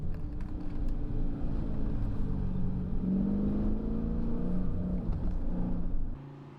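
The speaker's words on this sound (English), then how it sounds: "With 485 horsepower, the Hemi-powered cars drifted effortlessly around the track" A 485-horsepower Hemi-powered Dodge 392 Charger or Challenger drifts on a track, its engine a continuous deep roar held steadily for several seconds before cutting off abruptly near the end.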